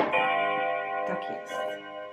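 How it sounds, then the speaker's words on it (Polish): A wall clock strikes in the background of a room, its sustained bell-like chime ringing with rich overtones that decay slowly across the whole stretch. "Zegar. To jest, słuchajcie, to co słyszycie w tle,"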